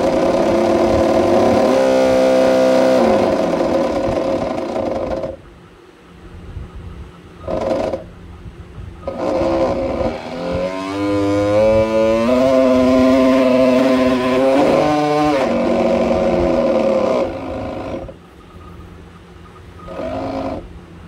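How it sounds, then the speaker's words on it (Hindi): The motor of a homemade remote-controlled boat spins a homemade propeller under throttle, a loud, close whine whose pitch climbs and drops in several bursts with short pauses between. "तो जैसे ही हम अपना थ्रॉटल स्टिक को ऊपर की तरफ मूव करते हैं तो ये हमारा प्रोपेलर घूमता है"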